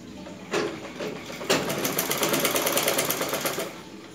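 Sewing machine stitching along the marked lines of a blouse front piece, a steady close-up whirring rattle that starts in short bursts and then runs continuously at full speed.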